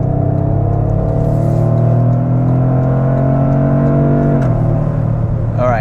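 Steady engine hum and tire roar from a 2025 Toyota GR with a long-geared 8-speed automatic cruising on a freeway, continuous and close with no talk.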